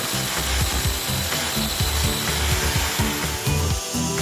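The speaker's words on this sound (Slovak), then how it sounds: "Tu sa už rebríka snažím navrtať do dierovanej tehly tesne pod betónový preklad vrtákom 28 mm pre" Parkside PBH 1550 A1 SDS-Plus hammer drill driving a 28 mm bit into perforated brick just below a concrete lintel: a loud, continuous hammering rattle with rapid regular impacts, close and alone.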